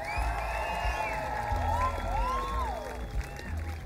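Outdoor crowd at a zydeco concert at the Simi Valley Cajun & Blues festival applauding and cheering for the washboard player, with whoops and shouts rising over a steady wash of clapping throughout.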